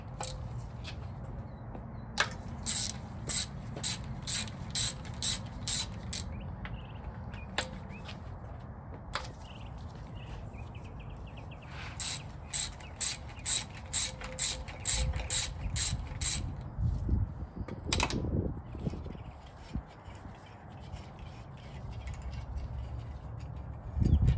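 A hand ratchet clicks in quick repeated bursts while 14 mm nuts and bolts are loosened from the engine mount of a 4A-C engine during teardown, with short pauses and a few metallic knocks between bursts, close and fairly quiet.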